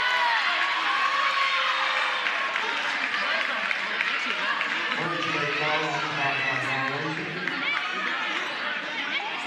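An upset basketball crowd at a men's junior college region championship quarterfinal game, a loud, continuous roar of chatter, shouts and jeers filling the arena without letup.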